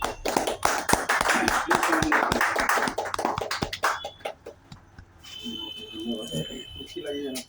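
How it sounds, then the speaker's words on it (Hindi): Audience applause welcoming a speaker at a student gathering, dense clapping from many hands that thins out into scattered claps, with voices heard over it. "हम सभी लोग जो है जोरदार ताली से सर का स्वागत करेंगे"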